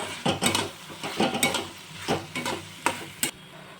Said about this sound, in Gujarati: હવે આપણે બધું મિક્સ કરી દેવાનું છે